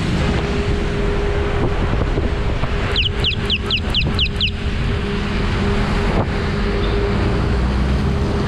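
Strong wind and heavy rain roar and buffet the microphone in a constant heavy rush, with a short run of high chirps partway through.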